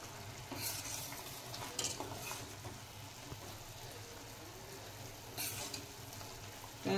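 Sugar syrup bubbles and sizzles quietly in a pan on a gas stove as it is stirred for rava barfi, with soft scraping strokes and a few louder clinks against the pan.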